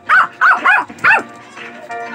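A Pomeranian dog barks indoors in a quick run of four sharp, high yaps, then trails off into softer whiny yelps, close and loud.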